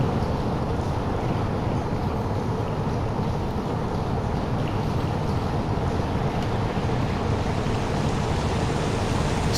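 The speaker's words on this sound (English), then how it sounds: "You can hear the waterfalls at the side here as we make our way along the boards." Waterfalls rush beside a boardwalk through caves in Watopia, the Zwift cycling game world, a dense, steady roar of falling water filling the whole stretch without pause.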